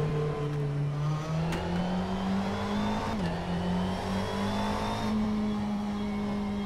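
Simulated GT3 race car engine in rFactor 2 revving steadily and loud throughout, with pitch shifting up and down through gears, a continuous close drone without talk.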